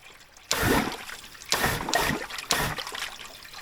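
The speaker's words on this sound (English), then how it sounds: "The water is rushing faster." Water gushes through the radiator coolant system of a Volvo BM 500 tractor during a flush, in three loud splashing surges about a second apart, close by and without speech.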